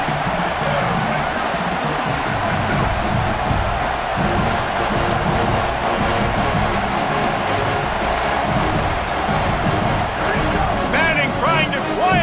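Dense, constant stadium crowd roar in College Football 27 builds on a big third down, loud and sustained, with play-by-play commentary talking over it.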